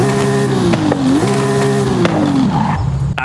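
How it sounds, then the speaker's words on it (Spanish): A tuned Volkswagen Beetle with an aftermarket exhaust in Forza Horizon 5, its engine droning loudly at a steady pitch, briefly dipping and rising, then falling away as revs drop near the end. "Ahora escuchen la máquina. Atención al motor de este bocho"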